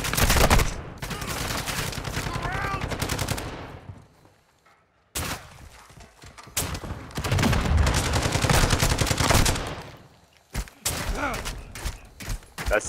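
A turret in Call of Duty: Modern Warfare II fires long, loud bursts of rapid automatic gunfire. The bursts come close and are broken by brief silent gaps, with no talk over them.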